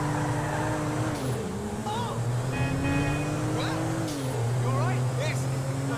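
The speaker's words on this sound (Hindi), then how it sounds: "एकदम बढ़िया भगाते हुए कार को।" A car engine revs and whines at high speed in GTA 5, a steady loud drone with shifting pitch from gear changes, with someone talking over it.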